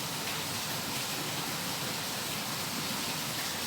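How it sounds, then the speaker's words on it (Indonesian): Heavy rain pours steadily outdoors, a loud, continuous wash of broadband noise like a downpour or running water, alone with no speech. "ini posisi keadaan masih dalam keadaan hujan saat ini"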